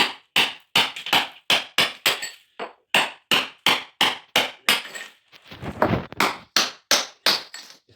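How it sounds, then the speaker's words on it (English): Hammer striking a chisel against natural stone tile, a steady run of sharp, loud metallic blows at an even beat, with a brief scraping pause midway before the hitting resumes. "Hammer and chisel it is."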